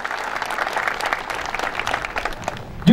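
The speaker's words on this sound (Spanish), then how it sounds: "Le quiero pedir un fuerte aplauso para ellos." Sustained applause from a community audience gathered at a local televised event, a dense steady patter of clapping hands filling the whole stretch, with a louder burst near the end.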